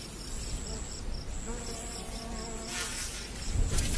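A swarm of harvester ants takes flight in northern Arizona, a dense, steady buzz of many wings with high insect whines weaving through, close and continuous.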